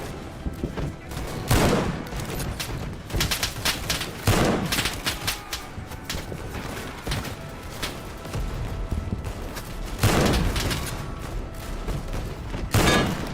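Rifle gunfire in an online shooter game, with rapid bursts of shots and heavy volleys clustering around several moments, some loud and close, others scattered and more distant, over continuous battle noise.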